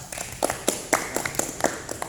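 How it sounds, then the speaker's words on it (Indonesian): Students in a classroom clapping for a classmate, a brief patter of scattered, uneven claps from a small group, fairly quiet and close. "Beri tepuk tangan buat teman kalian"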